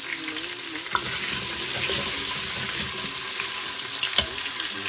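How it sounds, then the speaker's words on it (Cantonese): Potato pieces fry in hot oil with a steady, close sizzle and crackle, broken by a couple of sharp clinks from stirring. "荷蘭薯真係要炸一炸先好食㗎嚇。"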